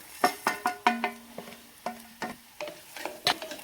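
A spoon scrapes and clinks against a pan in a quick uneven rhythm while onion, ginger, green chilli and curry leaves fry with chilli and turmeric powder, faint sizzling underneath the sharp metallic strokes.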